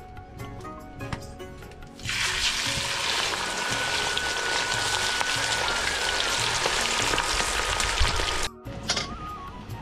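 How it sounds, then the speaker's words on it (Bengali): Marinated tuna pieces hit hot oil and fry with a loud, steady crackling sizzle that starts abruptly, holds for about six seconds, then cuts off, with faint kitchen clatter around it and no talk. "এই দেখো মাছগুলো একদম কড়া লাল লাল করে ভেজে নিয়েছি।"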